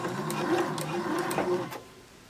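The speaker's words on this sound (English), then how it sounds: "I'm going to just top stitch right along the edge, again back tacking" A sewing machine top stitches along the edge of fabric for a women's surgical cap, running in steady bursts with a brief pause, close and fairly loud, then stopping near the end.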